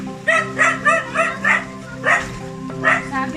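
A dog barks in a steady series of yips and short barks, fairly close and loud, with a few softer whimpering tones between them, out on a walk along a path outdoors.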